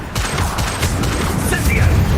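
A Crucio curse cast in Hogwarts Legacy lands amid a rapid burst of crackling magical impacts, loud and close, with dense layered bangs over a rumbling combat background.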